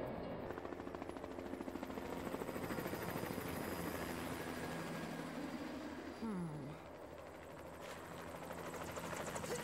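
Helicopter in The Incredibles video game, its rotor chopping steadily and prominently under game effects, with a brief swooping tone partway through.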